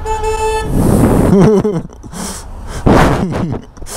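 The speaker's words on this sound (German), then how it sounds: "So geil, wie die sogar hupen." A loud car horn sounds, starting with a sustained blare and then a few more honks amid road noise and voices.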